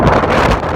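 Strong wind on the Solway Firth shore in wet weather, loud gusty buffeting on the microphone across a brief moment.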